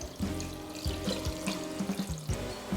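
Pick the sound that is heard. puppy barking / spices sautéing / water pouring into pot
water pouring into pot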